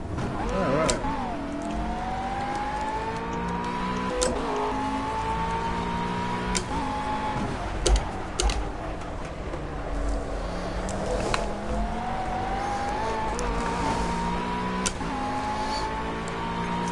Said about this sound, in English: This McLaren's a lot quieter than I thought it'd be.